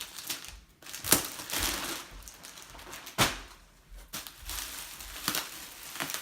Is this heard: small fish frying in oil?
no